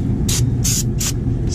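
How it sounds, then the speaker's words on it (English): Several short bursts of brake cleaner spray hiss close by onto a brake rotor, four quick squirts over a steady low mechanical rumble. "spray off our rotor, front and back"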